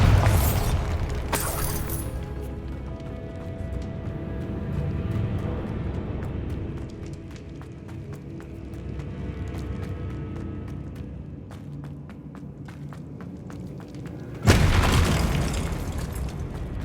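Bombarda blasting spell explosion in the video game Hogwarts Legacy, a loud booming burst at the start and another sharp blast near the end, with quieter rumbling and scattered clicks between them.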